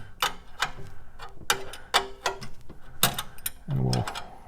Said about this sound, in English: Take it loose with your 7/16 wrench.